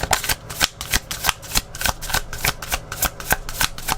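Tarot cards being shuffled by hand for a reading, a quick rhythmic series of crisp riffling snaps repeating about twice a second, close and clear with no voices.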